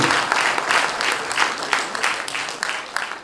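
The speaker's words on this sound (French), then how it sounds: "Donc nous, on peut les applaudir." An audience at a Force Ouvrière union meeting in the Sarthe applauds, a dense wash of clapping that swells and pulses slightly as hands keep going throughout.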